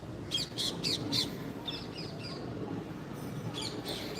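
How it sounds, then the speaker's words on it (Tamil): Sparrows chirp in quick bursts of four, then a few scattered calls, over a low rumbling background hum. "குருவி தாங்க கத்துது"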